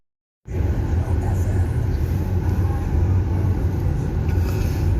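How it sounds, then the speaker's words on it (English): A car drives through a residential neighborhood in Russia, with a steady, close engine and road rumble running continuously after a brief silent start, and no talk. "We're just driving."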